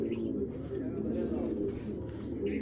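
A racing pigeon hen of Koopman bloodline cooing softly in a low, continuous burbling rhythm, heard close and fairly quiet over a background of room noise.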